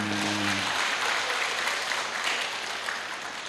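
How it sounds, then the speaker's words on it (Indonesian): A crowd at an Islamic lecture claps in a sustained burst of applause, dense and even, following a brief moment of a voice at the start. "Tepuk tangan."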